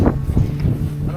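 Strong wind buffeting the microphone out on open moorland at Bodmin Moor, a steady low rumble with gusty swells across the whole short moment, loud and close, no voices.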